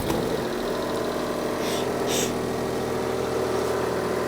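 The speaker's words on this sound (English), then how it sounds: "I'm going to start it up again" A Smart 451 car engine idles steadily with a newly fitted exhaust, a constant low rumble with an even mechanical hum, loud and close, with no talk over it.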